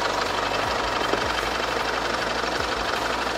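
A SsangYong G4 Rexton 2.2 diesel 4WD idles with the hood open, a steady low rumble and clatter heard close, even and unbroken, with no one speaking.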